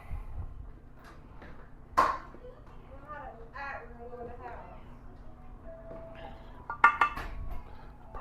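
Blueberry cobbler ingredients stirred in a baking dish, occasional clinks and scrapes of a utensil against the dish, with a sharp knock or two, under a person talking nearby.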